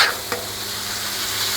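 Fajita meat and peppers sizzle steadily on a Blackstone griddle, a close, continuous frying hiss with a brief stir-like scrape near the start.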